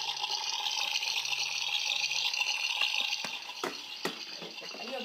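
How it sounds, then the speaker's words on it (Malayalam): Tap water pours into a bucket in a home kitchen while vegetables are washed, a steady hissing rush that thins out and ends with a few clattering knocks and splashes. "വെള്ളം ഓഫ് ചെയ്യൂ ദിയു"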